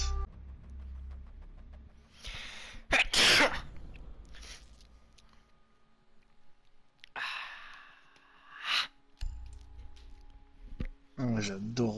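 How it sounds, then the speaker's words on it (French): A loud, sharp sneeze bursts out among French-speaking friends. It stands between breathy sighs and snorts, with casual talk before and after. "J'adore recevoir ton éternuement dans ma bouche."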